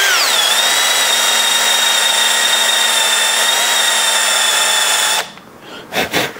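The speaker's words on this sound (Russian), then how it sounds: "но сверлю с осторожностью" A power drill whines at high speed drilling into a car suspension ball joint, steady and loud for several seconds, then stops abruptly, followed by a few brief clunks.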